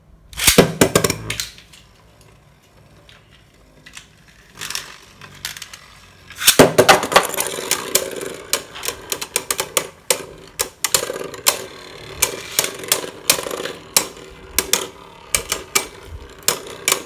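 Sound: Beyblade Burst tops launched and battling in stadium

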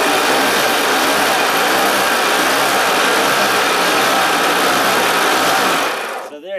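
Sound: homemade neodymium magnet generator spun by hand crank

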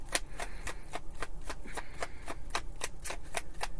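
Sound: rough shuffling an old deck of cards

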